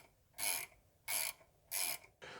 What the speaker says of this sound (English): I'm going to put it in a vise and I'm going to tighten this thing down.